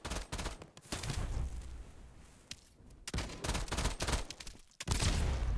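Bursts of rapid video-game gunfire crackle during a boss fight against the Mad Bomber, coming in loud clustered volleys separated by brief lulls, with no talking.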